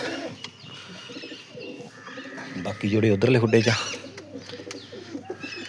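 Pigeons coo softly in the background while someone talks nearby; a louder burst of cooing rises briefly partway through.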